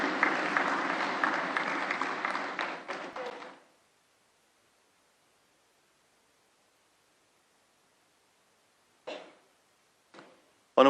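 Crowd applause for the Speaker at a parliamentary induction ceremony, loud and sustained for about three and a half seconds before dying out, followed by silence and a few brief scattered claps near the end.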